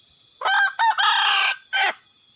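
A wild junglefowl rooster crows nearby in the rainy season, a loud broken call with several sharp bursts, the last syllable dropping off, over a constant high insect drone.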